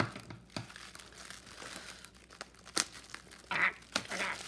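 Cellophane-wrapped packaging on a boxed release crinkles and tears up close in short, irregular bursts, with crisp rustles and a few louder rips.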